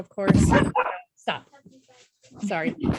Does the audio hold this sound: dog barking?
yes